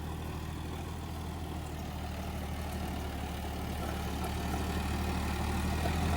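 A John Deere 5405 or 5210 tractor engine runs continuously at a steady, loud, low rumble, holding its revs without a break and with no voices over it.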